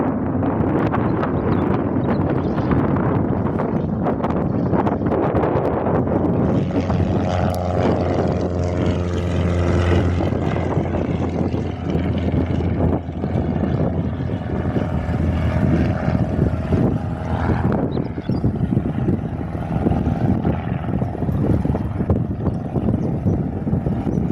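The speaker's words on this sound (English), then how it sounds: "The second one out of the two airfield planes is now departing." A propeller plane, one of two airfield aircraft, departs on a windy day, its engine drone steady and moderately loud throughout under heavy wind buffeting on the microphone, with no talk.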